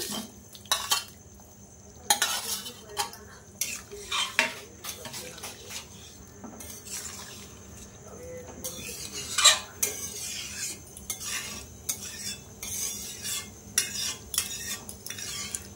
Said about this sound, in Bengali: তো দেখো এবার আমি আলুগুলো দিয়ে দিচ্ছি।